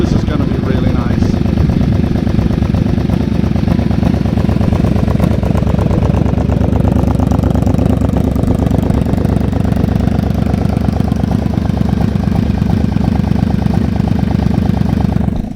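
A Yamaha Vmax motorcycle engine idles steadily after a cold start during a spring warmup, a loud, close, continuous rumble with an even throb that holds throughout without a break.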